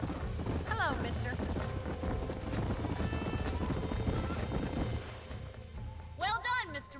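Steady clip-clop of horse hooves with a horse whinnying, over a busy game soundscape; a louder neigh rises near the end.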